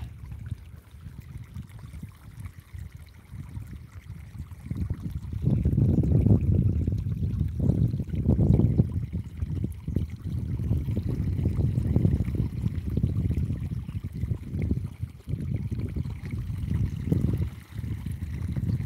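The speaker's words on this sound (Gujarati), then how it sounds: "માંડીમાં અત્યારે પાણી ચાલુ કર્યું છે" Irrigation water gushes and trickles steadily into a field, a continuous splashing flow that swells louder after a few seconds and keeps running.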